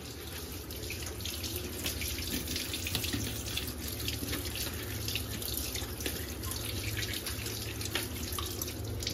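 Cut potatoes being rinsed under a running kitchen tap, a steady close splash of water into the sink with small drips and clatter throughout, no talking.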